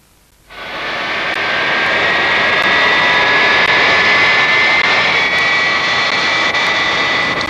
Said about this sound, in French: Voilà votre avion.